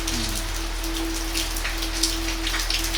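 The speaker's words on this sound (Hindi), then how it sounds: "इस बारिश के बूंदे" Steady rain pattering on surfaces in a calm outdoor setting with cool air, a dense even hiss of raindrops with no voices, continuous and close throughout.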